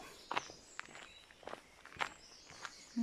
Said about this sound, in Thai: วันนี้มาเดินอีกป่าแหล่งจ้ะเนาะ มาจ้ามาเดินด้วยกัน